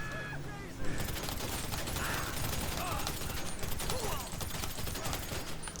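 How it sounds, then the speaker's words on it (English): Gunfire in GTA 5 Online, a scatter of moderately distant shots from attackers that crackle under steady engine and rotor noise, with someone talking over it. "So they're shooting at me again from somewhere."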